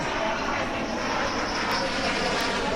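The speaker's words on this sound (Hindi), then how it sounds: "राफेल विमान, पहली तस्वीर जब आसमान में नजर आया, दूसरी तस्वीर जब लैंडिंग की" A Rafale fighter jet roars steadily overhead during its arrival and landing, a loud continuous engine rumble with broad roaring noise that holds constant throughout.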